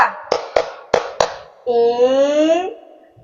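Five sharp, close hand claps in a quick uneven rhythm, followed by a single sustained spoken or sung voice calling out after the claps.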